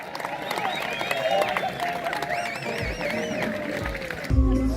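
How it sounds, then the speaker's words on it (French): A crowd applauds at the Coupe Icare paragliding festival, a steady wash of clapping and murmur from many spectators in the open air, with an announcer's voice running over it. "Un tonnerre d'applaudissements pour eux."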